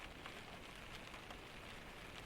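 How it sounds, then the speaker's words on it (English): Steady rain falling, a soft continuous hiss with faint scattered drops, quiet and even with no other sounds. "The rain falls without pause."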